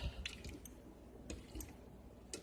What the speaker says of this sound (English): you gotta stir it down. Stir it.